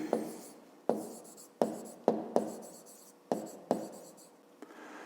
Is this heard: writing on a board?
yes